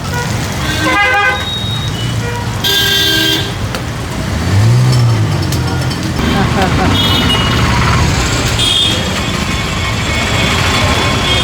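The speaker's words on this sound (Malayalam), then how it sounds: "ഭയങ്കര ഫാസ്റ്റായിട്ട്, സൂപ്പർ ഫാസ്റ്റ് ബസ്." A superfast bus races past on a road in Tamil Nadu, sounding its horn in loud toots as engine and traffic noise swell and fade, with people talking over it.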